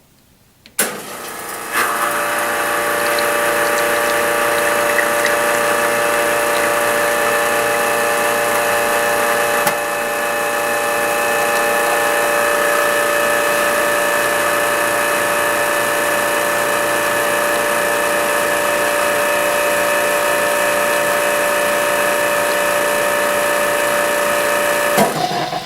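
A Magister ES60 Stilo commercial espresso machine pumps a shot into a glass, starting with a sharp click and then a loud, steady mechanical pump hum with strong tonal whine that holds unbroken for over twenty seconds.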